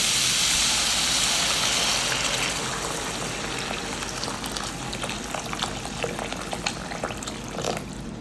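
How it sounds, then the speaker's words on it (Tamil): Water poured into a pot of spiced banana stem soup on the stove, a loud steady rushing splash at first that gradually thins into softer bubbling and trickling with scattered crackles. "இப்போ சூப்புக்கு தேவையான தண்ணியை ஆட் பண்ணிக்கலாம்"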